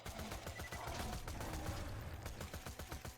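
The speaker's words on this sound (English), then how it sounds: "This SMG definitely leaves a little bit to be desired." Rapid SMG gunfire from the video game Roguelands, a dense stream of close, loud shots in a steady rhythm layered with game effects, running through the whole moment.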